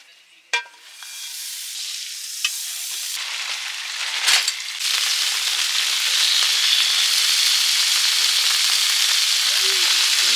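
Butter sizzles in a pan on a camp stove during a night camp on Mt. Balagbag: a few sharp clinks and scrapes come first, then a loud, steady hiss that spreads and holds to the end.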